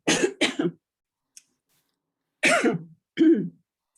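Several loud, close coughs in short bursts, two quick ones, a pause, then two more, with near silence between.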